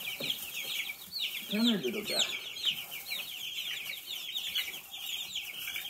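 Many meat chickens cluck and peep in a busy, agitated chorus nearby, with a person speaking softly over the flock.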